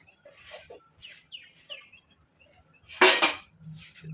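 Dishes and utensils are cleaned up in a home kitchen after breakfast. Scattered light clinks and scrapes of cutlery build to one loud metallic clatter near the end.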